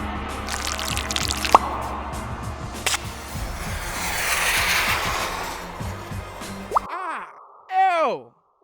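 A few isolated water drips fall, sharp and sparse, scattered over a noisy background with talk and other sounds.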